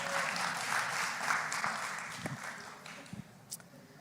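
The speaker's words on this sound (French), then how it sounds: "On l'applaudit, merci." A congregation at a church service applauds warmly, the clapping steady at first and then tapering into a few isolated claps and small knocks as the room quiets.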